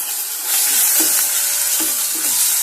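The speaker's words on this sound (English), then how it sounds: "in this I will add the ginger garlic paste and the turmeric powder" Ginger garlic paste and turmeric powder are stirred into frying chicken masala for Chettinad pepper chicken, giving a steady close sizzle broken by a few soft scraping strokes of the spoon.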